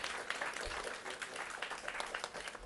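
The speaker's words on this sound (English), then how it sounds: "A bigger round of applause, please." Audience applause at a press club logo unveiling during a national press club federation conclave, a faint, steady patter of clapping from a crowd heard at a distance.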